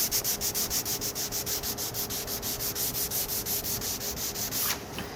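Rhythmic back-and-forth rubbing of waterproof sandpaper on damaged wooden furniture, close and steady, about two dozen even strokes before it stops.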